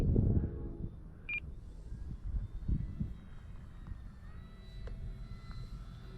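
An OMP Hobby Super Decathlon RC airplane flies figure eights, giving off a faint, distant, steady motor hum that wavers gently, with a brief thump near the start and one short high beep.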